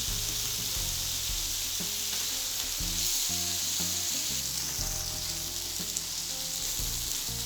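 Chicken pieces sizzling and frying in a hot pan as they are half-cooked for a grilled chicken bread roll, a steady close crackle with occasional stirring clatter and no voices.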